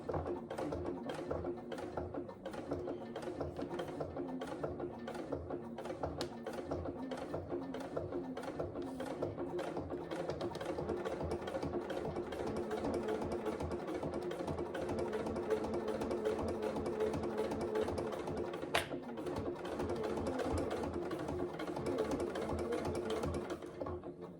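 A sewing machine top stitches fabric with yellow thread, a steady, close mechanical chatter of rapid needle strokes running continuously with a faint hum underneath and no voices.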